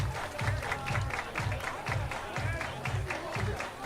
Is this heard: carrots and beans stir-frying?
no